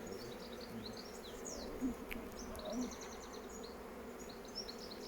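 Honeybees swarm around a hive in Scotland, a steady, close, layered buzzing that runs throughout with individual bees whining past.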